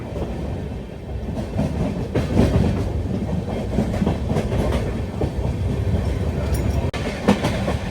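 Pinakini Superfast Express cruising between Chennai Central and Vijayawada, heard from on board: a steady loud rumble of wheels on rail with rhythmic clickety-clack beats over the joints, continuous throughout with no talk.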